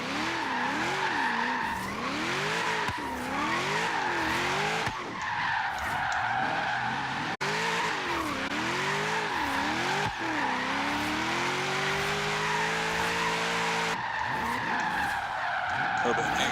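Video-game car drifting through a course after a rolling start, with loud, continuous tire squeal sweeping up and down in pitch over a revving engine, broken by brief cuts.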